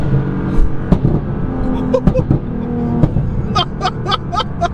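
850bhp Nissan GTR accelerating hard, with a loud, close engine roar, sharp pops and crackles and rapid bursts near the end, plus wind buffeting.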